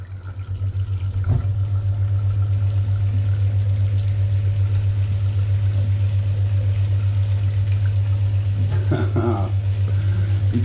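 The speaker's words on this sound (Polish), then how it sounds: "Ja włączę teraz pompę" A Graco St Max 390 PC Classic airless paint sprayer pump runs with water, giving a loud, steady mechanical hum with water noise that continues unbroken throughout, with a couple of brief knocks.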